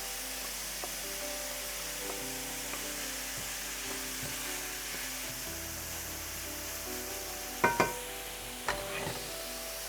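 Onion and leek frying in a pan give a steady soft sizzle throughout, with a few clinks and stirring knocks near the end, in a home kitchen preparing traditional Albanian minced-meat byrek.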